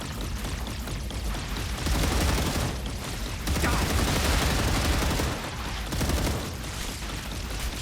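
An automated base turret fires on attacking bugs in a survival video game, a dense sustained roar of rapid gunfire in loud bursts lasting several seconds, with occasional talk underneath.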